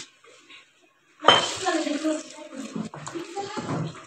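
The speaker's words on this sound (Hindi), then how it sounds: "तो यहाँ पे हमने पैन गरम कर लिया। ये सारा कीमा इसके अंदर डाल देंगे।" Minced meat keema tipped into a hot pan, a sudden sizzling hiss with metallic clinks of utensils against the pan, continuing under a voice speaking.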